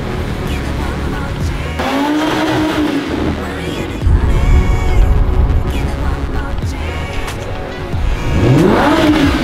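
A Lamborghini engine revs loud and close near a university, rising and falling in repeated surges with tire noise, while a voice speaks in Spanish over it.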